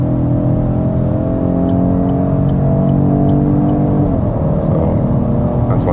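An Opel Mokka GS-Line with a 1.2 litre turbo petrol engine accelerates toward 120 km/h, its steady droning engine note and road noise holding loud and close from the cabin.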